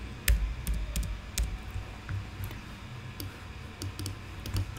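Keys on a Mac computer keyboard are tapped in short bursts while typing a terminal command, close and fairly soft clicks spread across a few seconds.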